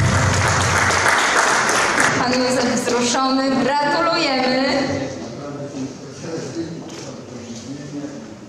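Audience applause at the White Magnolia (Magnolia Powiatu Opolskiego) award ceremony: dense clapping fills the first few seconds, then a voice carries on talking over thinning applause.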